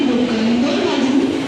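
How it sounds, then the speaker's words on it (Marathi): A train stands at a crowded station platform, producing a steady, close mechanical hum with a sustained tonal drone throughout the short moment. "शिवाजी कुठे जायचं असेल तर ट्रेन आलेली आहे."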